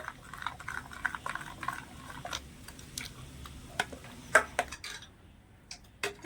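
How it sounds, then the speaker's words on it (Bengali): Batter of dry rice flour with a little grated coconut mixed in a bowl for chitoi pitha, giving soft scraping and clinking of a spoon against the vessel in scattered light taps close by, with a few sharper knocks. "নারকেল গোড়াটা দিয়ে দেব খুব বেশি দেবো না আমি সামান্য একটু দিয়ে দিলাম মিশিয়ে নেব ভালো করে"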